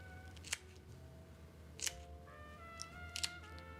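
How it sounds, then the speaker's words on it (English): Scissors snip through an eel's backbone a few times, sharp crisp cuts spaced apart, close and quiet against a faint background hum. "Take the scissors that we talked about and just cut across"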